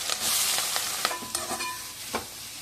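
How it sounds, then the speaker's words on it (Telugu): Finely chopped onions frying in oil for a fish curry, a steady broadband sizzle with intermittent scraping stirs, close and fairly loud, no talking. "వేసుకున్న తర్వాత సన్నగా తరిగి పెట్టుకున్న ఆనియన్స్ని వేసేసాను."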